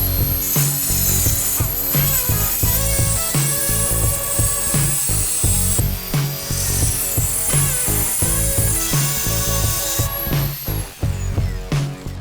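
A wet tile cutter machine slicing through Nano White tile makes a loud, sustained grinding whine with a rhythmic pulsing rasp as the blade works through the tile, with no voices.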